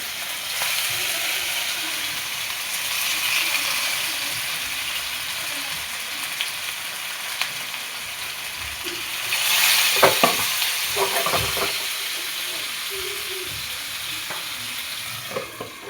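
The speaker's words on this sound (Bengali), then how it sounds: "মাছটা ভাজতে দিয়েছি।" Bhetki fish, rubbed with salt and turmeric, fries in hot oil with a steady, close sizzle that swells briefly louder midway with some spattering.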